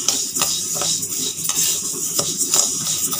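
Rice being dry-roasted for sakkarai pongal, scraped and turned in a metal pan with a ladle: continuous clinking and scraping strokes in a steady rhythm, close and fairly loud, with no talk.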